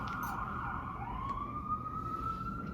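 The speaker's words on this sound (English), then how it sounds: "there's an ambulance going by right now" An ambulance siren wails past outdoors in a smooth, rising and falling tone, heard from some distance through a room under steady background noise.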